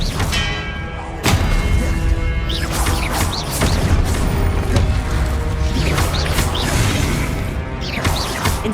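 Fiery spell blasts of Confringo and Incendio in the Hogwarts Legacy video game: a dense run of loud, overlapping bangs, crashes and booming impacts with ringing tails, repeating every second or so, no talking.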